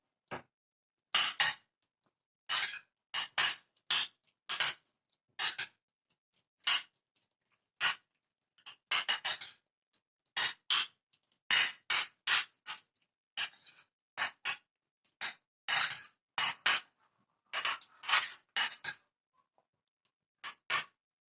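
Spoon repeatedly scraping and clinking against a bowl while an eggplant appetizer mixture is stirred, a steady run of sharp, close taps and scrapes spread over about twenty seconds with short pauses, no talking.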